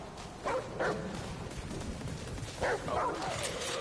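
A dog in a video game gives several short barks in two pairs, moderately near, over a steady noisy game background.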